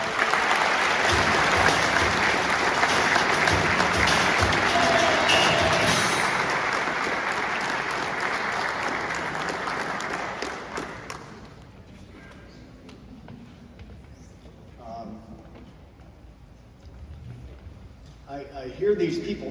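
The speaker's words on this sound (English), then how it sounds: "Applause for my coach, Stark County's coach, Ohio's coach" Audience applause honoring Coach Thom McDaniels at a high school hall of fame ceremony: loud sustained clapping for about ten seconds, then fading to quieter room noise with scattered sounds.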